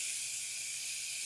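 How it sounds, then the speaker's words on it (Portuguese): Garlic frying in hot oil, a constant soft bright hiss that stays even and close throughout with no voices. "o alho já tá aqui fritando."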